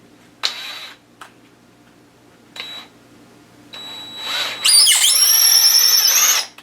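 A power drill drives 4-inch deck screws into a taxidermy form for lengthening a deer muzzle: a few short whirring bursts, then a longer rising high-pitched whine as a screw sinks in, loud and close.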